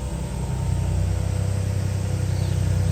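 A minivan creeps up slowly with a steady, low engine hum and road noise that holds even and continuous throughout.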